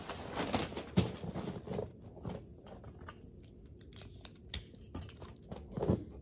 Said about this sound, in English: I'm using these little children's Dollar Tree scissors.